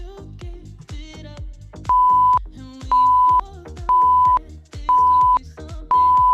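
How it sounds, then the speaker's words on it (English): Five evenly spaced electronic beeps from a Tabata workout interval timer, one per second, sound over rhythmic music, loud and clear like a countdown timer. "Beeps will let you know when we got 5 to close it."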